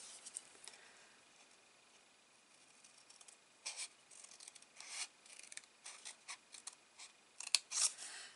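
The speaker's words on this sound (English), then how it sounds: "and then we're going to cut that section away." Scissors snip through paper card, a few short crisp cuts and rustles near the end, faint and close, with no talk.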